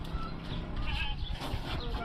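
A goat bleating, loaded onto a cargo truck among other goats, with a low mechanical rumble and livestock noise continuing steadily throughout.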